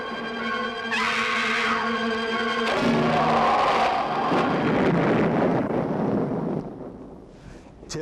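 A car crashes in an old science-fiction film scene, with a sustained tonal roar giving way to a loud, rumbling, noisy impact that swells, then fades into a quieter tail near the end.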